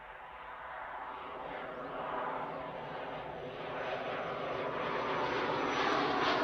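An aircraft passes overhead at Manchester Airport, a steady engine drone that slowly grows louder over several seconds, moderately distant and heard on its own.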